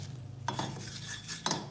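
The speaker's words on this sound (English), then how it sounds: "Make sure to roast the maida on very low heat." All-purpose flour (maida) being stirred and roasted in a pan over very low heat, with soft scraping strokes and a few sharper utensil scrapes against the pan, up close and steady.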